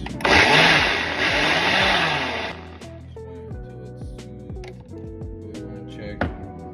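A blender whirs loudly in one pulse of roughly two and a half seconds while blending pasta sauce, followed by quieter kitchen clatter and faint tonal sounds.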